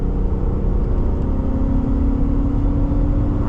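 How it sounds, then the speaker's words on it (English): Hummer H2 accelerating at wide open throttle with the pedal floored, heard from inside the cabin; a loud, steady low engine roar and rumble fills the whole stretch without talk. "All right, pedals on the floor. We are wide open throttle right now."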